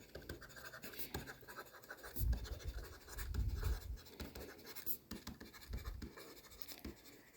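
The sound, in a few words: writing with a pen while working out accounts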